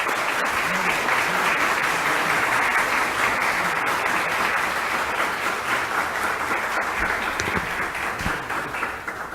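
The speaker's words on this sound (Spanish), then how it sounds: "profesor don Adolfo González Rodas, para quien pido por favor un caluroso aplauso" Sustained applause from a seated audience at a formal constitutional book presentation in Guatemala greets Adolfo González Rodas, dense and steady throughout and fading slightly at the end.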